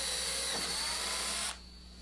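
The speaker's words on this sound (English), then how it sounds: "Use a small bit, something an eighth of an inch or less, to drill the hole where the string is going to come through." High-pitched whine of a small drill bit boring a string hole through an electric guitar body, running loudly for about a second and a half before cutting off.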